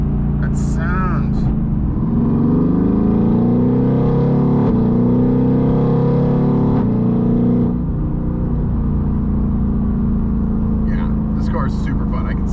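A Mercedes-AMG GT R sports car engine roars steadily while driving, a loud, deep, sustained exhaust drone rising slightly in pitch, with people talking briefly before and after.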